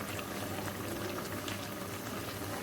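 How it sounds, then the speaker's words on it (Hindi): Oil bubbling and hissing steadily in a pot of mutton karahi, a dense continuous sizzle with no pauses and no voices. "अब मैं ऑयल डालूँगी उसके अंदर"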